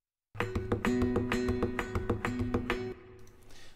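A solo acoustic guitar mixes percussive body taps with plucked notes in a quick steady rhythm, close and clear, then rings out and fades near the end.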